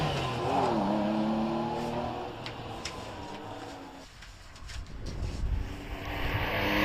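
A Porsche race car pulls away at the Prescott hillclimb. Its engine note rises in revving sweeps, briefly dips as it shifts, then climbs again, heard from a moderate distance with outdoor ambience.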